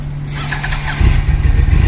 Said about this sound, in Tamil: நம்பர் வந்து Yamaha 2014 மாடலோட எக்ஸாஸ்ட் சவுண்டு தான் வந்து கேட்க போகிறோம்.